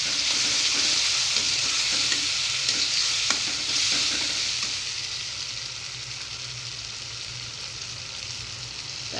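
A ground paste of mustard, ginger, garlic and cumin frying in a pan, a bright close sizzle with stirring scrapes that gradually settles and softens, with no talking.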